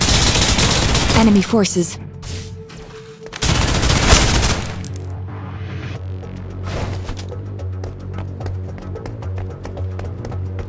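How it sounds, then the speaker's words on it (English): Bursts of suppressive gunfire in the video game SnowBreak: Containment Zone, with a loud volley early on and more firing mixed with running footsteps and a game music bed, under a spoken line of voiced dialogue. "Suppressive fire."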